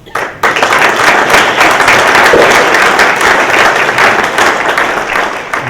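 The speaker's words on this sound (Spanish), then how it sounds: "Aplauso." Audience at a meeting breaking into applause, a dense sustained wash of many hands clapping from a sizable crowd, loud and steady throughout, with a voice briefly audible under it.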